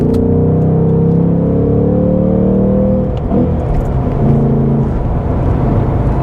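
A 2025 Ford Mustang GT's V8 drones loudly while driving, pulling hard with rising engine tones before easing into a lower, rougher rumble, close and continuous with no voices.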